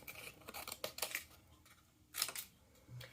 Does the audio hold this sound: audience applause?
no